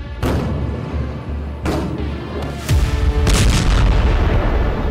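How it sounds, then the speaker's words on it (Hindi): A series of heavy explosions at night in southern Lebanon, with deep booms and rumbling blasts arriving in succession, loud and continuous with no voices over them. "घुप अंधेरे में दक्षिणी लेबनान में सीरियल धमाकों का ये पार्ट 2 है।"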